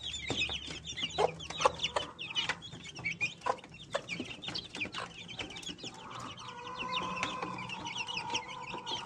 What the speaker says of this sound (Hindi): वो वहाँ से मुर्गियों की भी आवाज़ें आने लगी हैं